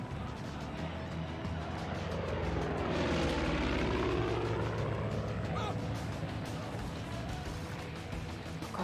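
Propeller aircraft flying in the video game Far Cry 5, a loud continuous engine drone that swells to a close pass around the middle and fades back, with game sounds mixed underneath.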